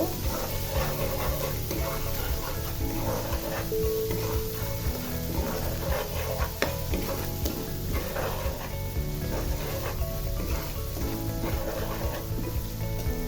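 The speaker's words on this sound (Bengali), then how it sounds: "আমি সবগুলো কিছু খুব ভালোভাবে কষিয়ে দিচ্ছি" Spices, salt and ingredients for maskalai dal sizzle continuously as they are sautéed in a hot pan, a close, loud, steady frying crackle with scraping stirs throughout.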